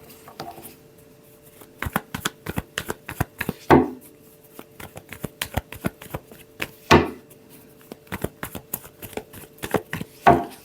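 Tarot cards are shuffled by hand in a rapid series of crisp riffling snaps, with a few louder bursts as the deck is bridged and squared, no voices.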